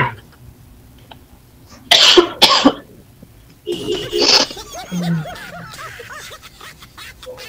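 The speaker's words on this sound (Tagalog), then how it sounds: "Ubo na nga ako ng ubo dito." A person coughs hard in a short close burst of two or three coughs, then a few more throaty coughs and a laugh follow, with quiet room noise around them.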